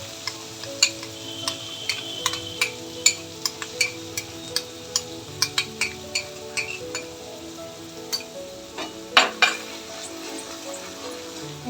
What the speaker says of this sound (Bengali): এই সর্ষে পোস্ত আর কাঁচা লঙ্কার পেস্টটা দিয়ে দিলাম